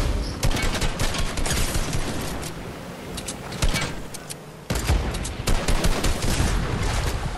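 Gunfire in the Fortnite video game, loud rapid bursts and fusillades of shots crackling continuously with a brief pause midway, close and dense.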